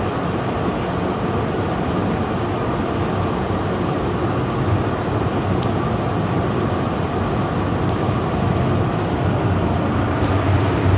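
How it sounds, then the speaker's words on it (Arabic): Airport tram at Hamad International Airport in Doha pulls away, giving a steady, fairly loud rumble and hum of the moving car heard from inside, with a few faint clicks and no talking. "The train is departing to Southport Station."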